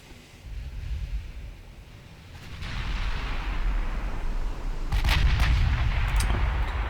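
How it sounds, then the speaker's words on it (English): Battleship main turret guns fire in the naval warfare game Ultimate Admiral Dreadnoughts, heavy booming salvos rolling over a continuous low rumble, with a sharper, louder burst of shots near the end. "Just get that X turret firing again."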